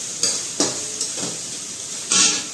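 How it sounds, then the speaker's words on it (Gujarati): Grated carrot sautéing in hot oil in a home kitchen pan, a soft sizzle broken by a few sharp scraping stirs of a spoon against the pan. "આ ગાજર સાતળી લઈશું થોડોક આપણે તેલમાં સાતળી દઈએ"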